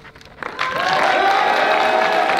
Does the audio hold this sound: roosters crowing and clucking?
no